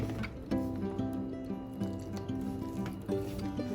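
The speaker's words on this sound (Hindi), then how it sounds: "मिक्स करने के बाद अब हम थोड़ा थोड़ा पानी ऐड करके इसको नीट कर लेंगे।" Maida flour dough is kneaded by hand with water and ghee, making soft, wet squishing and slapping sounds in an irregular rhythm, close and fairly quiet, with a faint musical tone underneath and no talking.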